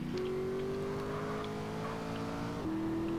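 A Nissan GT-R in the game CRMP drones at a steady engine pitch, holding one tone before a brief gear-shift dip, up close and continuous with no talking.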